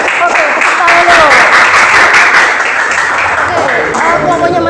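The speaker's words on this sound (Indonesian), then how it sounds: "Oke, tepuk tangan dulu." Loud, close applause from a classroom audience during a teaching practice session, dense and even clapping that carries steadily for several seconds.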